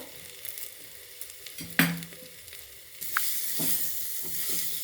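Chili powder and ground coriander-cumin paste sizzle and fry in a pan, with a steady close sizzle broken by a few spoon-stirring scrapes and a louder frying surge partway through.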